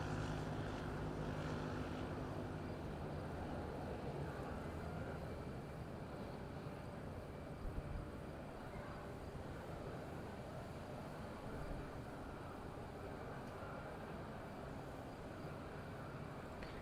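A Wizz Air airliner inbound from Katowice on approach to Madeira airport in windy conditions, a steady broad engine roar with heavy wind rumble that holds level throughout, moderately distant.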